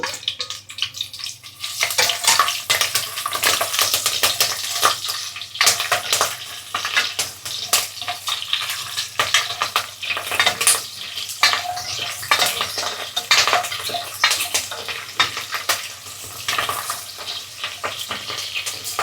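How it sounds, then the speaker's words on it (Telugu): Green chillies frying in a pan for meal maker biryani, a steady busy clatter and stirring with watery sizzle running throughout, fairly loud and close with no talking. "కొంచెం పచ్చిమిరకాయలు కూడా చక్కగా ఫ్రై అవ్వనివ్వాలండి"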